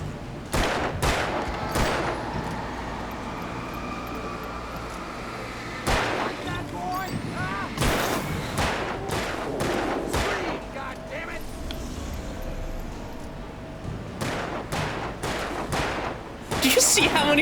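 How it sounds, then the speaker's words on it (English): Gunfire in the video game Alan Wake: repeated sharp shots in irregular bursts, some clustered close together, with brief lulls between volleys and a steady game background underneath. "Do you see how many shots are missing?"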